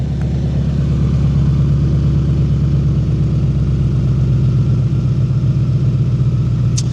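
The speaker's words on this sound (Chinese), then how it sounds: "来听一下它怠速的排气声啊" A Great Wall Soul S2000GL motorcycle with an eight-cylinder engine idles steadily, its exhaust giving a deep, even burbling rumble close by with no talk over it.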